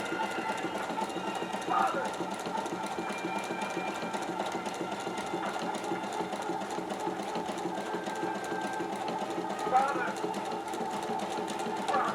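A Husqvarna sewing machine with a buttonhole foot stitches a buttonhole in a fast, steady mechanical whir, running continuously with small rhythmic clicks and a few brief louder knocks.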